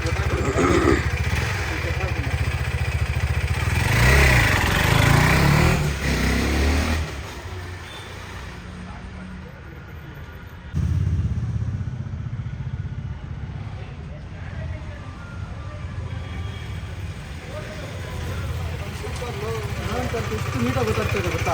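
A motorcycle fitted with a Fuel X and Race Dynamics Power Tronic engine tuning unit rides on a test run, its engine droning loudly and steadily nearby, rising and falling with throttle and briefly dropping back before surging again.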